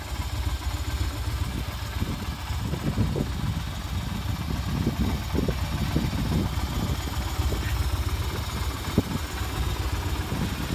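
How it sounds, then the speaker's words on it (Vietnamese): Vento 250cc motorcycle engine idling smoothly and quietly, a steady low rumble with faint irregular ticks, close by and alone without talk. "máy nó êm cực kỳ nha mấy anh, không có tiếng gì hết"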